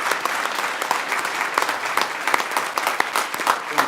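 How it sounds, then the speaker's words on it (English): A crowd at a neighborhood center grand opening claps loudly and continuously, with sharp individual claps popping out of a thick, sustained round of applause. "maybe clap for that"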